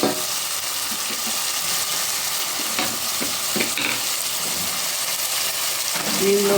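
Tomatoes fry in a pan for keema palav, giving a continuous sizzle with occasional stirring scrapes and a few louder spatters, fairly close and without talk.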